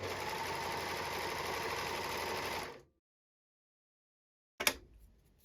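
An overlocker serger runs off a thread chain with a steady fast mechanical whirr for under three seconds, then stops to silence before a short clunk near the end.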